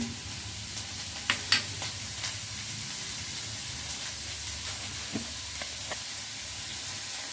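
Chopped onion pieces and garlic fry in a pan for a ridged gourd rice dish, a steady soft sizzle with occasional stirring scrapes and light clicks, close and continuous with no talking.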